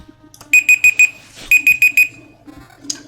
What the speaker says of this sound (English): That's my 15-minute timer.